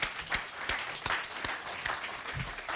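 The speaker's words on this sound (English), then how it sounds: "Again, one more round of applause for them." A modest round of applause at a closing event, fairly quiet, with a few distinct sharp claps standing out from a thinner spread of hands throughout.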